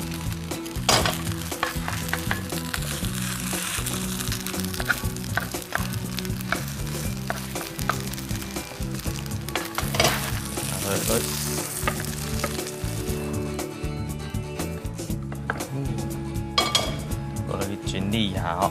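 Kimchi and lamb pancake frying in a pan, a dense continuous sizzle with frequent utensil clinks and scraping, while people talk over it throughout.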